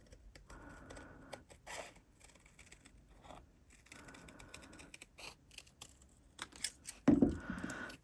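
Scissors snip out a shape in short bursts of quiet crisp cuts separated by pauses, with a louder snip and rustle near the end.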